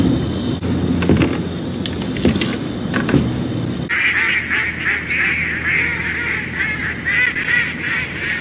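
Ducks quack repeatedly, a dense chorus of loud calls in the second half after lower rumbling and clatter at the start.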